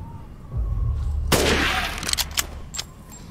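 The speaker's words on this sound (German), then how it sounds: "Und dann so ein schöner Shotty-Schuss" A shotgun blast fired in the survival horror game Resident Evil Village: one loud, sharp report with a short roaring tail, followed by a few lighter clatters and thuds.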